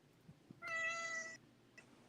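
A cat gives one clear, drawn-out meow, close and moderately loud, over a quiet room with a few small knocks around it.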